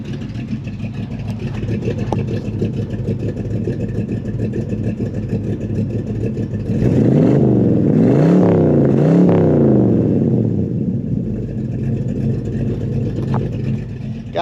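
A 1966 Ford Mustang with a V8 and 4-speed idles with a steady low rumble, then is revved hard in a loud surge of several rising and falling bursts before settling back to idle, with no talk.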